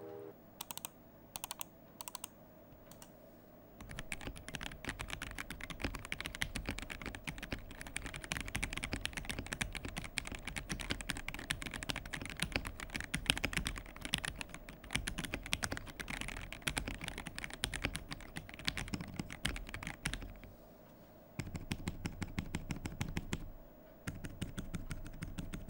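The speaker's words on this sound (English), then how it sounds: "We can now move on to the typing sound test." Rapid typing on a CHEAP60 gasket-mounted acrylic keyboard with Gateron Ink switches, dense clacky keystrokes sustained for long stretches, with a few isolated presses and brief pauses, close and clear with no talking.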